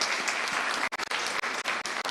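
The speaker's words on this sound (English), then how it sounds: "allow me to say and ask you for a thunderous round of applause to everybody" A forum audience at an annual CEO event breaks into brief, dense applause, many hands clapping together at close range for about two seconds.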